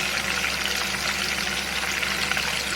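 Pieces of pork wrapped in golden needle mushrooms deep-fry in old, already-used oil over low heat, giving a steady, dense, even sizzle that carries on without a break.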